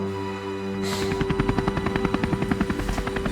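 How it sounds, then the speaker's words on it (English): A helicopter fades in and then thunders loudly, its rotor beating in a fast, steady rhythm as if passing close overhead. "Do you hear something? Yes, helicopters."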